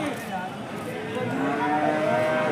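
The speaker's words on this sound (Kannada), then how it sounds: "ಪ್ರತಿ ಸೋಮವಾರ ಇಲ್ಲಿ ದನಗಳ ಸಂತೆ ನಡೆಯುತ್ತೆ, ಅದ್ರ ಜೊತೆ ಹಸುಗಳ ಸಂತೆ ನಡೆಯುತ್ತೆ ಮತ್ತು ಎಮ್ಮೆಗಳ ಸಂತೆ ಕೂಡ ನಡೆಯುತ್ತೆ" Cattle, cows and buffaloes at a weekly livestock market near KG Temple in Gubbi taluk, Tumakuru, low drawn-out moos rising over a steady crowd murmur, one animal lowing nearby as the clip goes on.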